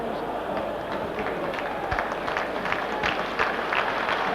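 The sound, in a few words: stadium crowd applauding a substituted football player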